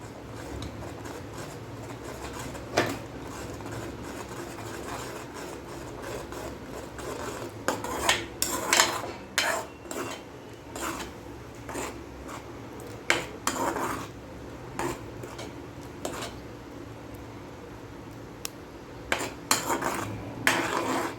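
Pizza sauce made with tomato paste being stirred in a pan, giving scraping and clinking of a utensil against metal, fairly quiet with louder clusters of knocks midway and near the end.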